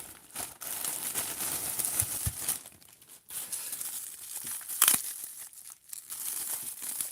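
Plastic baggie holding a Hot Wheels or Matchbox toy car being torn open by hand, close, with crinkling and a few sharp rips, no talk.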